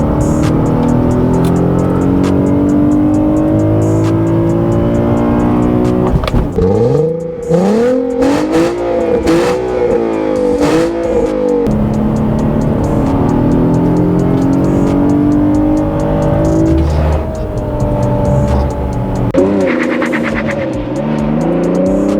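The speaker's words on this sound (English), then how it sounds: "We're in the perfect place to test drive a rear-wheel drive front-engine coupe like the Infiniti G37s." An Infiniti G37s rear-wheel-drive, front-engine coupe with a manual gearbox accelerates hard. The engine drone climbs steadily in pitch, then dips at gear changes before pulling up again, loud and continuous from inside the car.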